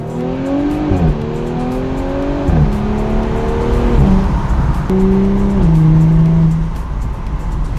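An Audi S4 B9 engine roars nearby as it accelerates with the windows down, its pitch climbing and then dropping with each gear change, several times in a row.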